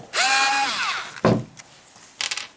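Bosch GO electric screwdriver (set 06019H2021) driving a fairly large bolt. A close, short burst of whirring motor sinks in pitch as it loads up, followed by a thud and a few brief clicks.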